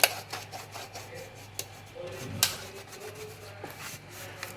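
A kitchen towel rubs over a household switch board, giving soft, close scrubbing and swishing with a few sharper clicks and knocks, fairly faint and with no clear speech.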